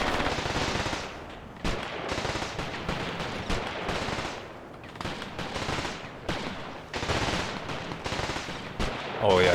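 Rapid bursts of machine gun fire in the WWII tactics game Graviteam Tactics Mius Front, an ambush battle, with loud sustained volleys broken by brief pauses and layered distant gunfire throughout.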